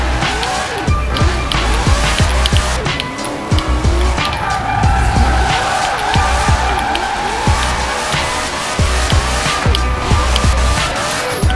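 A Mercedes G-Class 6x6 drifting around a corner in Forza Horizon 4: a loud, steady engine drone runs throughout, with repeated tire squeal and skidding chirps layered over it and no voices.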